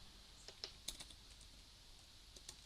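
Light, quiet tapping on a computer keyboard, a handful of scattered keystrokes with short pauses between them, close to the microphone and without talk.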